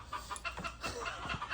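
Excited chickens cluck and squawk nearby just after being fed, in a quick overlapping chorus of short calls.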